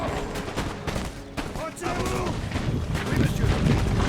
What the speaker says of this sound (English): And we've got some shots fired.